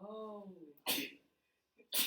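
A sharp sneeze bursts out, then a second one follows after a short pause; a brief spoken exclamation comes just before.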